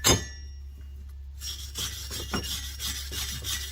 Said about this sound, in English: Clean a little schmag off it.